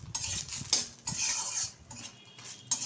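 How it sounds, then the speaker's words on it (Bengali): Fried lentil dumplings (bori) are scooped from hot oil in a pan and dropped into a bowl, giving close metallic scrapes and clinks of a utensil against cookware over a soft background sizzle, with no talk. "তো ভালোভাবে ভেজে তুলে নিচ্ছি একটা পাত্রে।"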